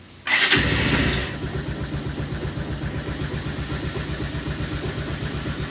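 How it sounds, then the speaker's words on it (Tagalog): A motorcycle engine cranks and fires with a loud burst, then settles into a steady, rhythmic idle chugging up close for several seconds with no talking. "start natin ang ating motorsiklo."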